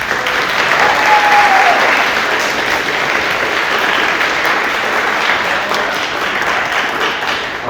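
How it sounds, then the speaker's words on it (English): Sustained, loud audience applause at a school showcase, a thick wash of many clapping hands that runs steadily for several seconds with only slight rises and dips. "Let's give the SEP team a round of applause."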